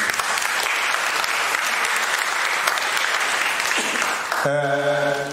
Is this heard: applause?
yes